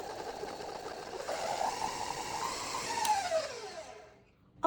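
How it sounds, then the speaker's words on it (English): An electric mixer creams butter with brown and granulated sugar, giving a steady motor whir with the pitch drifting up and down. It winds down and stops near the end with a final clunk, close up and without speech. "I mixed the butter and sugar for about 3 minutes until it looks nice and fluffy"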